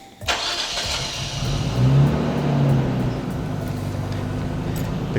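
A Nissan R32 Skyline, remote started while parked in neutral, catches and settles into a steady idle, a loud, close, continuous engine rumble with a slight swell in revs just after starting.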